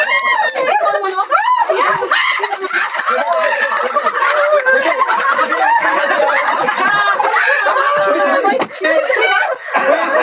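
A person loudly imitates a clucking chicken among a lively group, with snickers, chuckles and talk throughout in a playful game setting.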